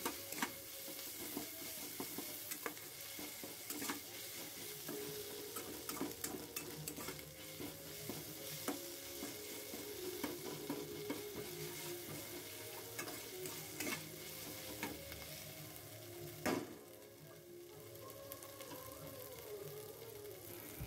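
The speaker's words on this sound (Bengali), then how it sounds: "এবার আদা রসুন বাটাটা সবজিগুলোর মধ্যে দিয়ে আরও 2 মিনিট ভালো করে মিশিয়ে নেব" Vegetables fry on low flame with ginger-garlic paste while being stirred steadily for egg fried rice, a continuous close sizzle broken by frequent scraping spatula strokes and light clinks, with no voices.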